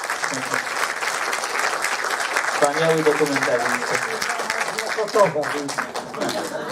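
An audience at a centenary commemoration for writer Gustaw Herling-Grudziński claps steadily throughout, while someone speaks in Polish over the applause.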